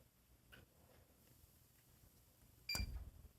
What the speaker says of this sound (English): Oops, I heard it beep.